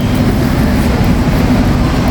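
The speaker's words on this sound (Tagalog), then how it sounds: "Yung tren na yan." A passing train on a commuter line rumbles steadily and loudly nearby, a dense unbroken roar with no voices over it.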